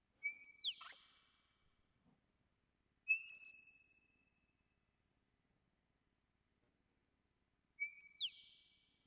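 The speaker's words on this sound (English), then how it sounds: "These are mostly bird sounds." Raw, unprocessed bird field recordings: three separate sharp whistled calls, each a bright tone with a quick sliding sweep, spaced several seconds apart in near silence, clean and fairly close.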